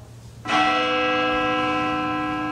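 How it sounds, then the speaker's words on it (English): A single church bell strikes loudly and rings on, its rich overtones sustaining and slowly fading, with no voices. "I hear the toll of the bell"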